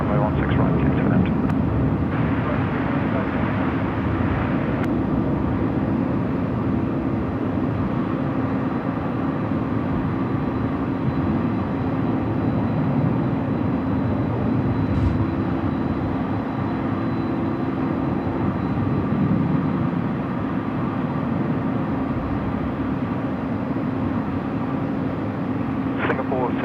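Airliner landing on runway 16 right at Sydney Airport at night, a steady broadband jet roar that holds loud and even throughout, with radio voices talking over it.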